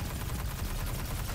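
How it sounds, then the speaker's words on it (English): Enemy gunfire in Destiny 2, rapid continuous automatic shots in a dense rattling stream, loud and close with no talk. "Who's shooting me?"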